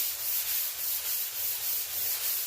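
Sandpaper rubbed by hand across the steel hood of a 1969 Dodge Dart with light pressure, making a steady, close scratching hiss in even, repeated back-and-forth strokes, with no voices.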